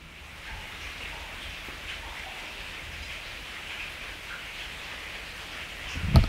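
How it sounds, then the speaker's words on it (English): Heavy rain falls at night outside an old bunker or jail, a steady dense hiss at moderate volume with a brief louder knock near the end. "I think the rain really picked up."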